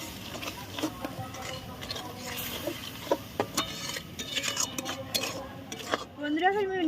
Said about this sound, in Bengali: বন্ধুরা আমি নাড়িয়ে নাড়িয়ে নিয়েছি, চিনিটা আমার গলে গেছে।